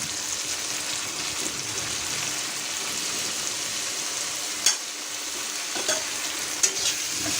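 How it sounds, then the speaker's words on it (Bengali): Garlic paste is stirred into a hot frying pan, producing a steady sizzle with soft repeated scraping and a couple of sharper utensil knocks on the pan. "তো রসুন বাটা দিয়ে দিচ্ছি।"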